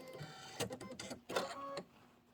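A Kimberbell embroidery machine stitches a Fresh Flowers design, giving a mechanical whirring with rapid bursts of needle strikes and brief pauses, close and fairly quiet.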